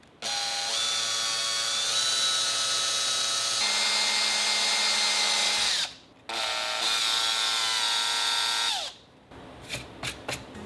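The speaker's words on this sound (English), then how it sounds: "I'm going to use my 3/16 inch drill bit and start drilling" A power drill with a 3/16 inch bit whines steadily as it bores a hole for a dash accessory mount in a Toyota Tacoma, stops briefly, then runs again before cutting off, followed by a few light clicks.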